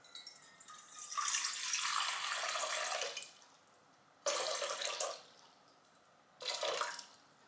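Lukewarm water pours steadily into a bowl for about two seconds, then two shorter bursts of pouring follow after brief pauses, close and fairly loud.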